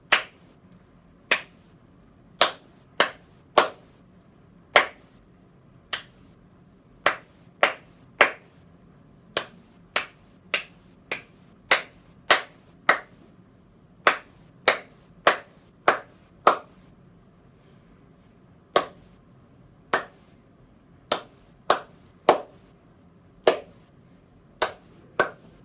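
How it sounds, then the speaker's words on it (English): A pair of hands claps out the rhythm of a beginner clarinet piece, crisp isolated claps in an uneven pattern of short and long gaps, close and clear over near silence for about twenty-five seconds. "now I'm going to clap the rhythm"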